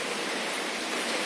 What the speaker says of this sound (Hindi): फिर 1 घंटा हो गया है बारिश चालू हो गया है